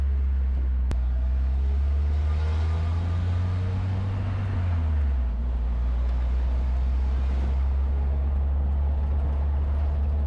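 A YJ Jeep fitted with a VW TDI diesel engine drives along with a steady low engine drone and a pitch shift midway, consistent with a gear change, continuous and close with no talk.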